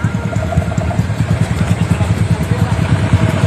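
A big motorcycle engine idles and revs with a loud, clattering low pulse, close and continuous, with faint voices mixed in.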